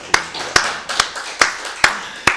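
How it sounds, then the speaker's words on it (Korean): A church congregation at a Wednesday worship service claps in slow, evenly spaced unison, six sharp beats about half a second apart, each with a short room decay, and no talking over them. "살아계신 하나님께 박수를 드리겠습니다"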